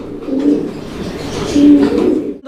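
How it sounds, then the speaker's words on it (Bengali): German Shield pigeons coo close by in two distinct low, throaty phrases, one early and a stronger one later, each rolling on briefly. There are no voices. "এখানে আরও এক জোড়া কবুতর আছে এটা জার্মান শিল্ড কবুতর একটা জোড়া"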